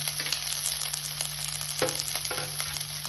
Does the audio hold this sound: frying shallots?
yes